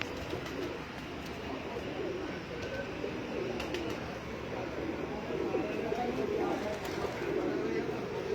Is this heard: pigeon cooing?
yes